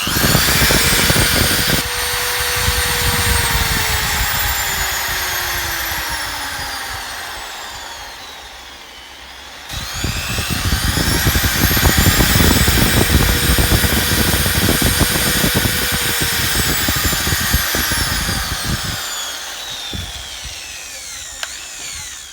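An INGCO ID6538 650W impact drill runs with its trigger locked for over twenty seconds, its loud motor whine rising and falling in pitch as the speed is adjusted, briefly slowing midway before revving back up, and no one speaks.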